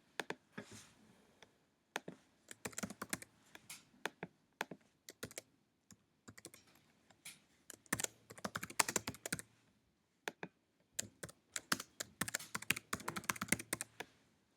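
Typing on a computer keyboard, quiet bursts of rapid key clicks separated by short pauses, close and alone.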